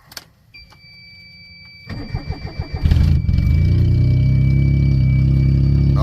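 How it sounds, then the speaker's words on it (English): A Geo Metro's small engine is started cold after sitting two days: a quiet hum and chime, then a few seconds of rhythmic starter cranking before the motor catches and settles into a loud, steady idle close by. "I hadn't cranked my Metro since the day before yesterday. So, you know, kind of cold start."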